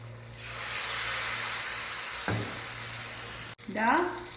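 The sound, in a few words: ripe plantain (ethakka appam) frying in hot oil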